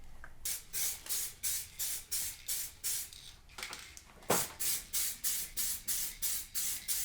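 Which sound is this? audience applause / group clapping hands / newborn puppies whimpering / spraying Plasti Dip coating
spraying Plasti Dip coating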